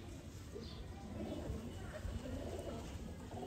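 Domestic pigeons coo softly in a home loft, low murmuring calls repeating faintly against a quiet, steady background hum.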